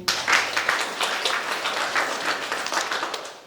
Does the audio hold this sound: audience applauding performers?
yes